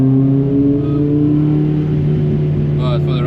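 A Honda Del Sol's B18 VTEC engine revs steadily at the Nürburgring, a loud sustained drone with a slight pitch rise, heard close from inside the car, with a brief voice near the end.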